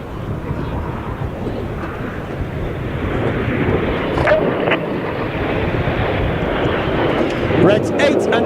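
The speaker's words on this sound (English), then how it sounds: "Each pair will now dive down to the airfield at a height of only 50 meters above the airfield." Pairs of Red Arrows jets dive low over an airfield at an air show, producing a continuous rushing jet roar that swells toward the end, with wind buffeting the microphone.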